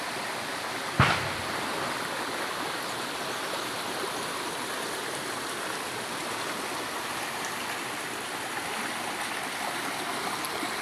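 River water flowing under a large bridge, a steady, fairly faint broadband rush that continues evenly throughout, with one sharp knock near the start and no voices.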